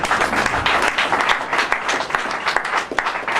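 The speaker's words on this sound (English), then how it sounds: "I want you to be very sincere in your clapping" Steady applause from a seated audience at a church event with a bishop, dense and continuous clapping filling the room without pause.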